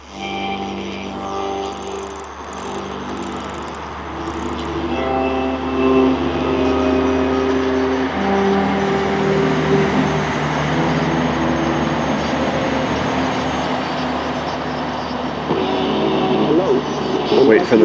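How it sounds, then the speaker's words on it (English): Heavy trucks roll past on a road, building into a loud, sustained rumble with droning engine tones that swell and linger, while people talk underneath. "Wait for the trucks to go by here."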